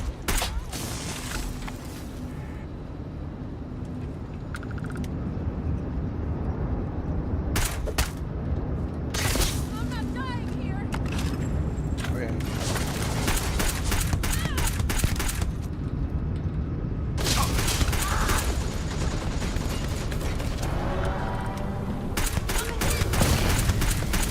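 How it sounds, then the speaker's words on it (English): Sci-fi weapon fire in Starfield comes in several bursts against a constant hum of game machinery and creaks, with loud firing clusters spread across the span and a brief voice. "Opening fire."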